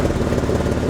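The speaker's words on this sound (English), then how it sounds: "I'm just kind of letting it go through its little cold start" A BMW engine idles steadily during a cold start, giving a continuous rough, loud mechanical drone with no talking.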